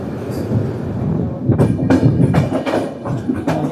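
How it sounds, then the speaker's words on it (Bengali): A train rolls into Benares station at close range, its rumble building into a run of rhythmic wheel clacks and clunks over the rail joints, loud and near. "ট্রেন এখন বেনারস চলে এসছে।"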